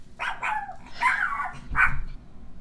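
A dog in an anime episode barks several times in quick bursts, loud and close, with no talking over it.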